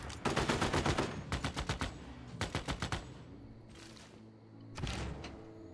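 Rocket artillery fires in a Civilization VI battle: rapid bursts of sharp cracking shots in rattling volleys, several salvos separated by short pauses, loud and close, with no voices.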